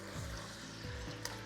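Chicken and split yogurt brown in oil in a pan for a Kashmiri rogan josh, giving a steady low sizzle with a few soft stirring scrapes and one brief sharp click near the end.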